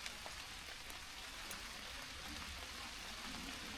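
Steady rain pours down on a backpacking camp in the Three Ridges Wilderness during a thunderstorm, a dense, even hiss of drops on tarp and ground with no breaks, faint and continuous.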